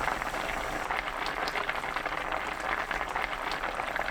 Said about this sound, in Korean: 다시마 1조각 넣고 센 불로 뚜껑 닫아 끓입니다.